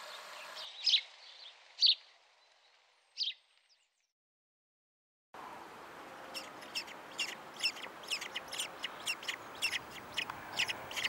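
Young kestrel chicks in a nest, with a few separate high chirps at first, then a pause and a quick run of rapid, repeated thin squeaking calls close by.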